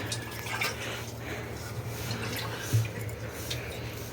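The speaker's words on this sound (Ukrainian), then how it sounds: "Дивіться, це воду зливати." Water drains from a hydraulic accumulator tank, running and trickling steadily at low volume with a faint hum underneath and one brief louder splash near the end.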